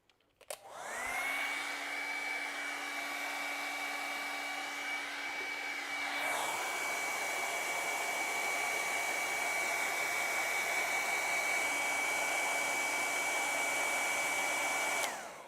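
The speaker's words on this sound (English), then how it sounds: "let me dry this though" A hair dryer runs steadily to dry acrylic paint on a night forest canvas, a loud continuous whine with a shift in pitch partway through, then a long even blow until it clicks off.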